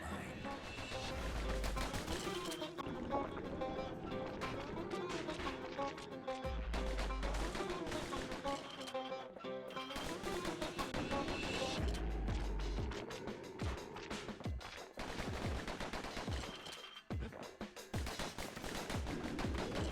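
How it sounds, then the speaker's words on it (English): Repeated pistol shots from a pair of dueling pistols in the action game Bastion ring out in fast bursts over a dense, loud game soundtrack throughout. "I'm appreciating the dueling pistols quite a bit here."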